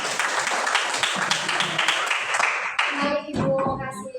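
A classroom group gives a round of applause for the first student group after a presentation, dense clapping from many hands that thins out toward the end, with some voices mixed in.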